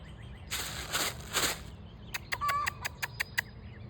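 A hen gives three broad bursts of calling followed by a rapid series of sharp clucks, close and fairly loud against low background rumble.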